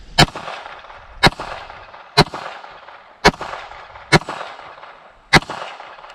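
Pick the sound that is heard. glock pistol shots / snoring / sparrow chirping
glock pistol shots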